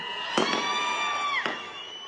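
A crowd cheers and claps for Shahaji Bapu at a political gathering in Maharashtra, with whistle-like tones running over a steady roar and two sharper bursts of noise.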